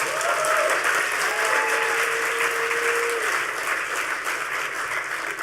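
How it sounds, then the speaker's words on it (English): A hacker conference audience gives a loud, dense round of applause for the maker of the event badge, a sustained wash of clapping from a large crowd with faint voices mixed in. "give him a round of applause."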